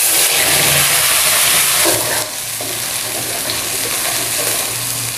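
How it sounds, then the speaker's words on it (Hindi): Onions dropped into hot oil with crushed whole spices and bay leaves give a loud, steady sizzle and hiss for a jackfruit curry, dropping slightly after a moment and continuing to crackle under some stirring. "अब प्याज डाल देते हैं।"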